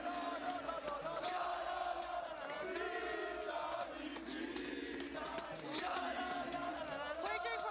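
Vitality esports fans chant together in a crowd at a CS2 Counter-Strike major in Austin, loud rhythmic shouted voices repeating in bursts across the whole stretch.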